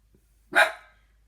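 One loud, close dog bark rings out abruptly after a brief quiet moment, then trails off into silence.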